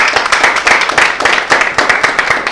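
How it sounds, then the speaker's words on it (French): An audience applauds on a music show, close, brisk rhythmic clapping in loud bursts with little talk. "Est-ce qu'on va applaudir s'il vous plaît?"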